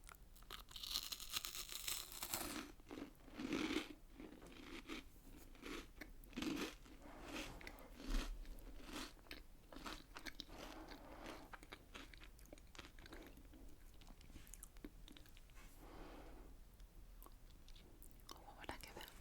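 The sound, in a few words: crunching and chewing a biscuit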